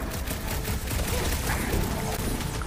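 Dense, continuous bursts of gunfire in the video game Guardians of the Galaxy crackle steadily through the whole short stretch, loud and busy with overlapping shots and no clear pauses.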